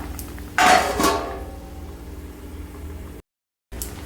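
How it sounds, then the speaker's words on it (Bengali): A lid clanks down onto a pot of simmering sweet-sour carambola chutney, two sharp metallic knocks close together, followed by a quieter low hum before a brief gap. "তো আমি দিয়ে দিচ্ছি একটা চাপা ঢাকা"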